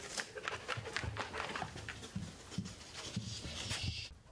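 A police service dog pants rapidly and close by, quick rhythmic breaths with a few small whimpers mixed in, continuing throughout.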